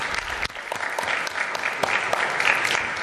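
Warm applause at a city commission meeting for young adult speakers, a dense run of clapping with a few sharper claps standing out, close and fairly loud.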